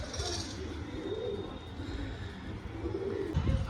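Pigeons coo in a pigeon seller's shop, soft repeated low rolling calls layered over a steady busy background with some chirps.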